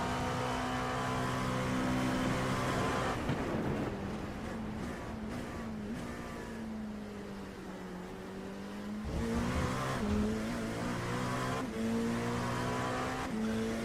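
A race car in a Le Mans racing video game roars along the Mulsanne straight, its engine a loud sustained drone with gear changes and pitch shifts, and a brief tyre squeal as the rear grip struggles.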